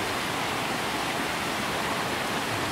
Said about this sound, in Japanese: いい滝だ。